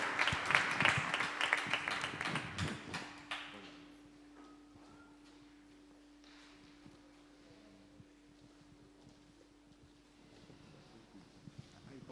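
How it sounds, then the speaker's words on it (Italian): Church congregation applauding during an Italian-language worship service, a dense burst of clapping that fills the first few seconds and then fades into quiet room tone. "Applaudiamo il nostro Signore."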